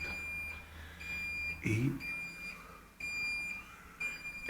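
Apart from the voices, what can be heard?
elevator alarm for a door left open too long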